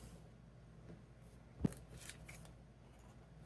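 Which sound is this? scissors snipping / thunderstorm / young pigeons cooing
scissors snipping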